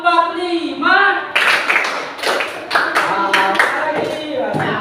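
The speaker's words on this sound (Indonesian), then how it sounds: "Tepuk 3, tepuk 3. Nah, tepuk 3 lagi nih." Children clap their hands together in short rhythmic groups during a classroom counting game, crisp sharp claps in sets while an adult voice talks between and over them.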